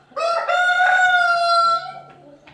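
A single rooster crows loudly and close by in one long, drawn-out call lasting nearly two seconds, with faint coop noise beneath it.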